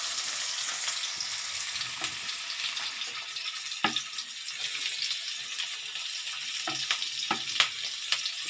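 Chopped onion and green chili sizzle as they sauté with cumin in a pan for vegetable spring rolls, a steady hiss of frying broken by a few sharp stirring scrapes, close by with no talking.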